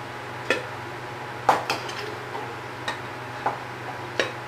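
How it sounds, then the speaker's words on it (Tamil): Homemade mango pickle is moved into another vessel, with sparse, light clinks and taps of a spoon against metal spaced out over a quiet background. "இப்போ நம்ம வேறு பாத்திரத்தில் மாற்றிக்கலாம்"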